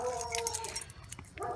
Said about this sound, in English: The neighbor's dog is fucking annoying.